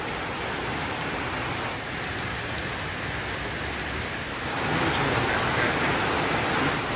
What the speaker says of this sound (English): listening to the rain coming down